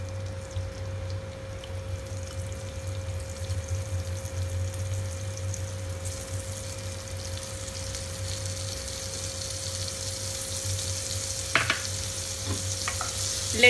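Paneer cubes fry in oil seasoned with turmeric powder, a steady close sizzle under a faint tonal hum, with a few light clinks near the end and no talking.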